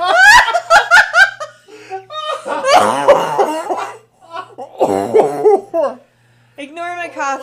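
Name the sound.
coughing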